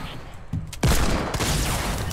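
Gunfire in a Fortnite Battle Royale match: a sudden loud burst of shots cuts in after a quieter stretch and carries on as a dense, sustained barrage close by.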